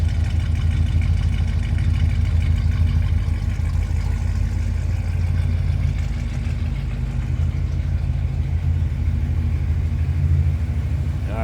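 A 1972 Oldsmobile Hurst/Olds 455 V8 idles with a deep, steady rumble, loud and close, with a low throbbing tone and no speech.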